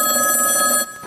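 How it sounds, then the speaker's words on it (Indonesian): A telephone rings for an incoming call, a close, bright, steady electronic ring that stops abruptly at the end. "Ada telepon masuk?"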